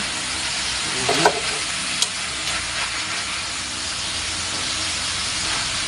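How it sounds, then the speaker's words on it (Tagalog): A mixture of bitter gourd (ampalaya) is stirred gently in a hot pan, giving an even, steady sizzling hiss with a couple of brief utensil clinks, close and constant. "Konti lang halo po para lang mag-combine po yung sangkap natin."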